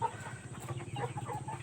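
Three-month-old Mardi chickens cluck in a steady low chatter, several birds close by without pause and no talk.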